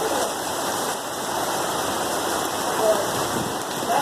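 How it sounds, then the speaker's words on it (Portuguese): Heavy rain pours down in Mauá, São Paulo, a dense, continuous roar of water on surfaces that stays loud and even throughout, with no voices over it. "Olha que chuva."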